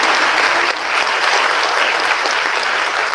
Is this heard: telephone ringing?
no